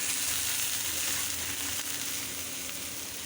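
River pangas fish cooking in a pan with fried onion and a little water gives a steady, continuous sizzle that stays close and fairly even throughout, with no talking.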